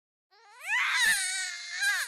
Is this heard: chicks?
no